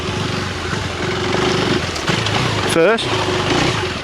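A KTM 390 Enduro R single-cylinder motorcycle engine bogs at low revs, giving a rough, uneven drone with a brief rev swell near the end, heard under someone talking.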